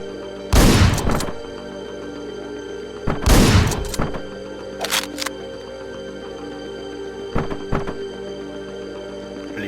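Shotgun blasts firing buckshot in a violent first-person shooter, two loud booming shots close together early on, then lighter thuds and clacks of handling and movement, with sustained game background tones underneath.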